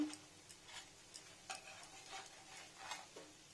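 Pumpkin flowers cut in pieces with green chilli, coated in gram-flour batter, frying in hot oil; a soft steady sizzle with faint crackles and intermittent stirring ticks, fairly quiet and close, no voices.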